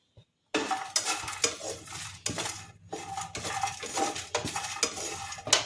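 Garlic and spices are stirred and roasted in a pan for lauki raita, a spoon scraping and clanking against the metal in repeated bursts over a light sizzle, close and busy with no talking.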